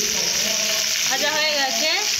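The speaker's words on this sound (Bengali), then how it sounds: "ফুলকপিগুলো এইভাবে ভেজে নিয়েছি, এইভাবে ভেজে নিবে।" Cauliflower pieces frying in hot oil in a pan give a steady, close hissing sizzle that runs continuously throughout, with faint harmonic tones rising in the background.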